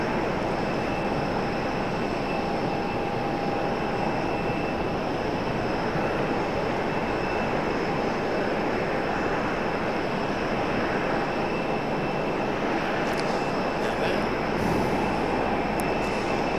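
An airplane takes off from runway 5 left at Raleigh-Durham airport, a steady, sustained engine roar heard from a distance that holds level throughout.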